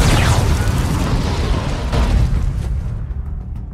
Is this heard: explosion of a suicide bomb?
yes